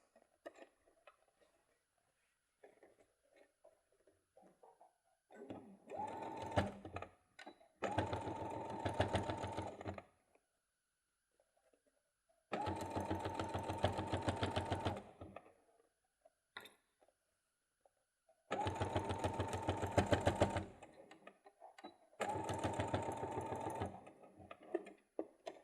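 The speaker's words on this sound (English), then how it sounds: "So I'm going to stitch this side first." Sewing machine stitching the sides of a bag, running in several bursts of rapid mechanical clatter a few seconds long, separated by quiet pauses with faint handling sounds.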